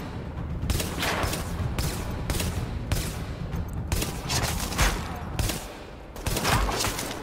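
Heavy gunfire in The Division, a steady barrage of loud shots and blasts with repeated sharp bursts over a dense, rumbling battlefield din, no voices.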